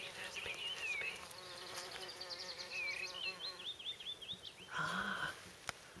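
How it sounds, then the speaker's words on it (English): Bee buzzing close by among celandines in a permaculture garden in spring, an intermittent faint drone rising and falling as it moves, with birdsong in the background. "There's a bee, there's a bee, there's a bee."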